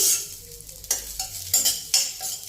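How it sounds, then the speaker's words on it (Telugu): Soft, steady sizzling of green chillies frying in a little oil in a pan, with a few louder stirring scrapes at regular intervals. "చూసారుగా పచ్చిమిర్చి ఎలా వేయిస్తున్నాను"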